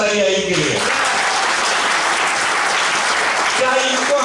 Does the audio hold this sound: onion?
no